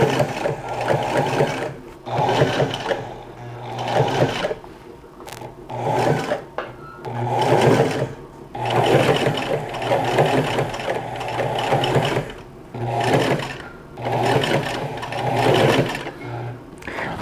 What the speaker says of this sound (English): now just top stitching